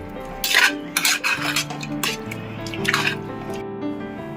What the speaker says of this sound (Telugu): చేతితో దీన్ని మనం బాగా కలిపి వాష్ చేయాలి